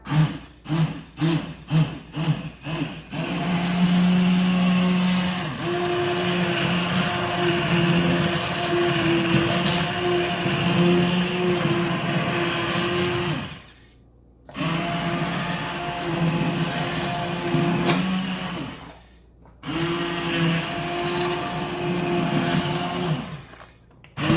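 A blender on medium pulse purees tomato soup made with old German tomatoes and purple bell pepper, opening with quick short pulses and then running in long steady whirring bursts separated by brief pauses, loud and close, with no voices.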